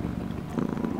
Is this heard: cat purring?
yes